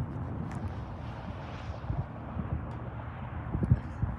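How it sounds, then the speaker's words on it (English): Low rumbling wind buffets the microphone continuously high up at Three Sisters volcano, Oregon, a dull, gusty roar with occasional soft thumps and no voices. "Pretty windy up here right now."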